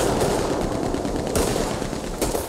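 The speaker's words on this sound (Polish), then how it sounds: "Drugi strzela, zaraz go zdejmę." Continuous gunshots in the western shooter Red Dead Online, a dense, loud volley of rapid shots with a couple of sharper cracks standing out.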